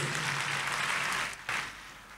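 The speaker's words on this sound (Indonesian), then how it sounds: "Tepuk tangan yang percaya buat Tuhan Yesus." Church congregation clapping during an Indonesian Sunday service, a steady wash of applause that fades slightly toward the end.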